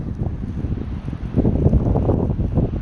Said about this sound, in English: It's cold up here and wind, snow blowing sideways.